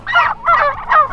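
Farm turkeys gobble loudly and close by in three quick rippling bursts, with no voices over them.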